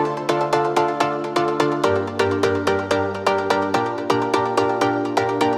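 Layered synth chords of filtered pluck and mid-saw patches play together in a melodic house style, sharp rhythmic plucks repeating over sustained chord tones, with the chord changing every couple of seconds and no voice.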